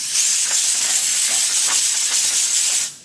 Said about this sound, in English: Use some compressed air.